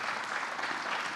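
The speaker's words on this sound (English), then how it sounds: "Let's give these guys a hand." Audience applause fills a hall at the men's open archery finals, a steady dense patter of many hands clapping, close and loud with no break.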